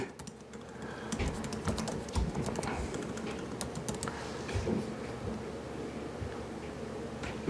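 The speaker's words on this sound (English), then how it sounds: "Are you going to type it out to see what it looks like?" Steady computer keyboard typing, close and continuous, with rapid uneven key clicks running throughout and no voices.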